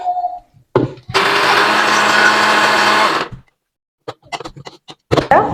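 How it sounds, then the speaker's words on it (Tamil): Electric mixer grinder blending mango chutney with a little water, a loud steady whirring burst of about two seconds, starting and stopping abruptly, followed by clatter and handling knocks. "போட்டுட்டு மூடி அரைச்சு கொள்ளுவோம் பாருங்க ஒரு கொஞ்சம் போல தண்ணி விட்டு அரைச்சு எடுத்துக் கொள்ளுவோம்"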